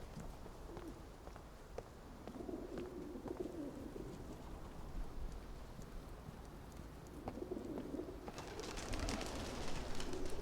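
Pigeons coo softly in the video game The Medium, set against a steady ambient bed with scattered clicks and a brighter swell of background noise near the end.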